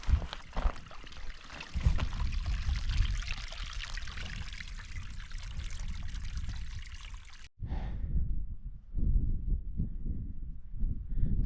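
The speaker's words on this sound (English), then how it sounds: "Water flowing over a Y-shaped stone." A small stream pours over a Y-shaped stone on a Dartmoor tor, a steady close trickling and splashing that runs continuously, briefly cut off, then resumes.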